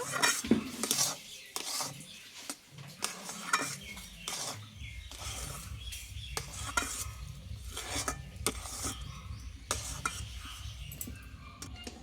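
A spoon scrapes and clinks against a pan as semolina dough for mango laddu is stirred, with irregular metallic taps over a low background hiss, mostly without talk.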